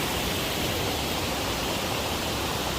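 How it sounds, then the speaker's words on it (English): Waterfall on Spearfish Canyon creek, a dense, steady roar of rushing water that fills the whole clip, loud and close, with no talking. "So you gotta go take a look at some waterfalls."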